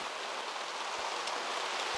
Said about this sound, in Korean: 빗소리 들리죠?